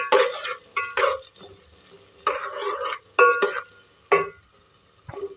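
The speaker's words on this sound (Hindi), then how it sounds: "ये प्याज हो रही है फ्राई" Onion and green chilli frying in a pan while being stirred, with bursts of scraping and clinking from the spoon against the pan over a soft sizzle, close and fairly loud.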